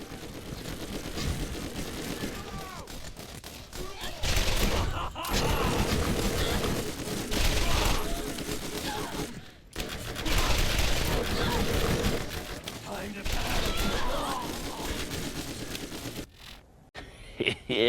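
Sustained automatic fire from the Bone Shredder SMG in Borderlands, long dense bursts broken by brief pauses, loud and close amid game action, with a player talking over it.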